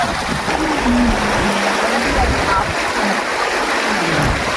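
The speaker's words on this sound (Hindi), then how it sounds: "और ये पानी बहता हुआ," Mountain stream water rushing over rocks at Rohtang Pass, a steady broadband wash that stays loud and close for the whole stretch, with a few faint tonal sounds mixed into the flow.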